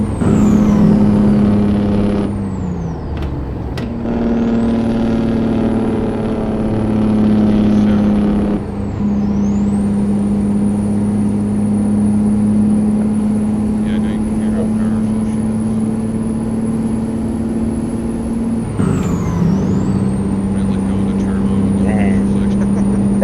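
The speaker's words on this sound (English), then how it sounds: "now you can hear the engine brake right here." A heavy truck engine in American Truck Simulator drones loud and steady, its low rumble shifting pitch with gear and engine-brake changes, with a high whine above and brief gaps in the roar.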